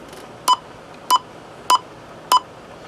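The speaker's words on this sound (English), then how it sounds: "I hate the beep" Four short, evenly spaced electronic beeps from a LesComm Magnum 1 radio, each a crisp mid-pitched tone over faint background hiss, alone with no talk.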